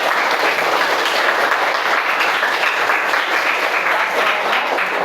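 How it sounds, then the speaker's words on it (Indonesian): A school class applauds together at the end of a lesson, a steady, even patter of many hands clapping that fills the room without a break. "beri tepuk tangan"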